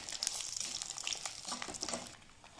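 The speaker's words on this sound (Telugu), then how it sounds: "నూనె బాగా వేడెక్కినాక ఎండి మిర్చి వేసుకొని" Dried red chillies frying in hot oil in a pan for gongura pachadi, a steady crackling sizzle with soft bursts and stirring, close and fairly quiet throughout.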